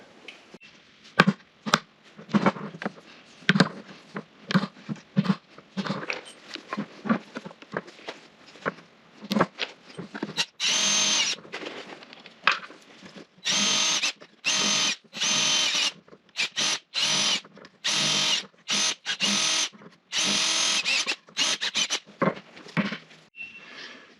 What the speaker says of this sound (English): Now I'll get these holes drilled.